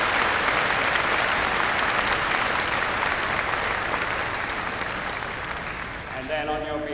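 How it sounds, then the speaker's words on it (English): Sustained, loud applause from a convocation audience honoring university faculty and staff at a math graduation ceremony, dense clapping throughout that tapers slightly near the end. "I'd appreciate it if you can give them a nice round of applause"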